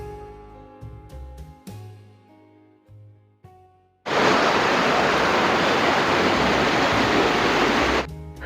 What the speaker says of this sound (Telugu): మూడు వందల అరవై ఐదు రోజులు కూడా నీరు పడుతూనే ఉంటుందండి